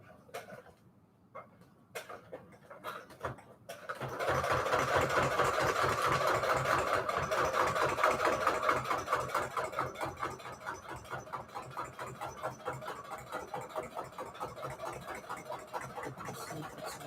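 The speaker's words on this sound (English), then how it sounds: "Okay, going in with my sewing machine." A sewing machine starts up and runs steadily with a fast mechanical rattle, then continues with slightly uneven, pulsing stitching.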